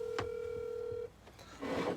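A phone call is placed on a cell phone: a steady electronic tone sounds for about a second, then cuts off into faint clicks and rustling, heard fairly quietly.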